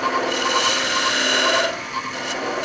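A wood lathe turns a honey dipper as a hand tool cuts into the spinning wood, producing a steady, close scraping and rasping that shifts in tone partway through, with no talk.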